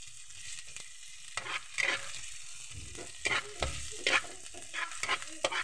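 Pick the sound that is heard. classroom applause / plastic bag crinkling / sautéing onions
sautéing onions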